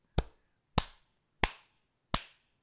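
Four sharp, evenly spaced hand claps land about two-thirds of a second apart in a deliberate slow clap, each crisp and close with a short decaying tail, alone and otherwise quiet.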